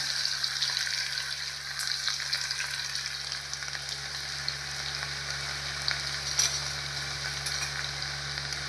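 Garlic and curry leaves fry in hot oil for misal, a close, continuous crackling sizzle with faint scrapes of a stirring spoon running throughout.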